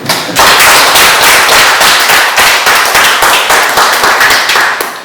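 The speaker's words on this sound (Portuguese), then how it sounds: "Eu peço uma salva de palmas para eles" A crowd applauds loudly and continuously at a book launch for a river source expedition, dense clapping that swells and holds steady throughout.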